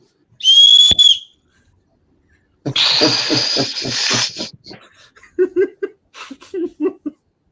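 A whistle built into a flashing LED light gives one short, sharp, high-pitched blast, followed by a pause and then nearby laughter and breathy chuckling.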